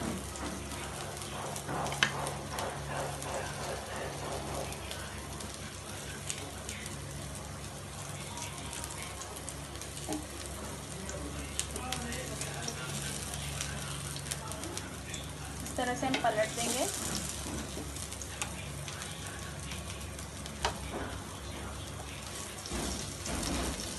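Leafy green vegetable kababs shallow-frying in oil over a medium flame, a steady close sizzle and crackle that runs throughout with occasional louder spits, and no talk.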